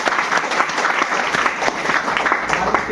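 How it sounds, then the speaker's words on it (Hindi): A room full of people at a business opportunity meeting in India claps together in a steady, dense burst of applause lasting several seconds, fairly loud and close with no talk over it. "बजाओ ताली इसके लिए"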